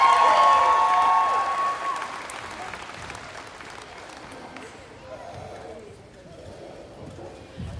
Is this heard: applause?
yes